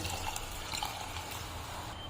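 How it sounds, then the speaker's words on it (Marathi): Hot water being poured into a pan of fried amti curry mixture, a brief, soft continuous pouring and trickling sound close by, with no talking. "यामध्ये आपल्याला आवश्यकतेनुसार गरम पाणी टाकायचे गरम पाणी करून घेतले ते टाकूया"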